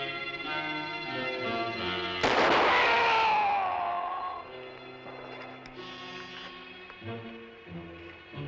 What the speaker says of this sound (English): You shot my blood brother.